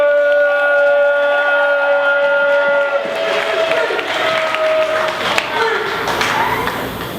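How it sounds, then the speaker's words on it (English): An audience greets the performer Freeman with clapping and cheering that rises after a sustained tonal hum fades, building into a dense, moderately loud wash of applause with some voices mixed in. "So please put your hands together, clap it up, stomp your feet, show some love, make some noise"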